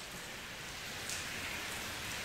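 Steady rain pours outside on a cold, gloomy day, a continuous even hiss with no voices over it.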